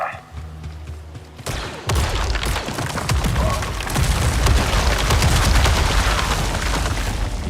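Blaster gunfire in the video game Star Wars Jedi: Survivor, a sustained dense barrage of rapid shots and booming impacts that starts abruptly after a quiet moment and stays loud and continuous.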